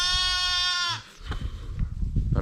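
Sheep ewes bleating during lambing season, one loud, close, drawn-out bleat followed by farmyard rustling and low background noise.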